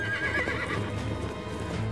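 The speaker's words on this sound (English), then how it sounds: "He kept goading the horse on." A horse gallops with steady clip-clop hoofbeats and neighs, a continuous sound effect under a narrated story with no talk over it.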